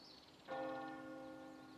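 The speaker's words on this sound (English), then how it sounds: "For centuries, the church bells here have rung to call the faithful to worship." A church bell in the Normandy fields of France strikes once with a clear, ringing tone that hangs and slowly fades, standing alone against a quiet background.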